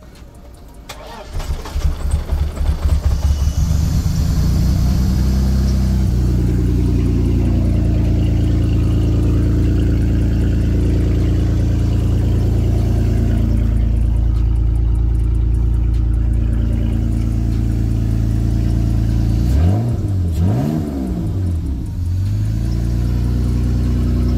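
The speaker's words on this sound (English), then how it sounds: "Let's see if we can get this BMW started." A BMW car engine cranks and fires, then settles into a steady loud idle with a couple of rising revs near the end, running continuously close by with no talk over it.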